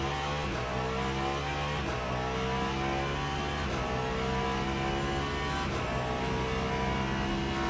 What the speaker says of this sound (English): even listening to it, like, the reason I chose the Cadillac for Le Mans is because it sounds good